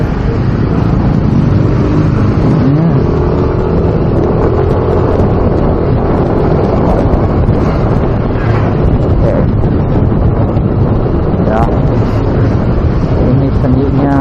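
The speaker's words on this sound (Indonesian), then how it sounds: "Berkendara motor di Jakarta bisa bulusak-bulusuk." Motorcycle riding through narrow alleys of a Jakarta housing area, a steady engine drone under heavy wind buffeting on the microphone, continuous and loud.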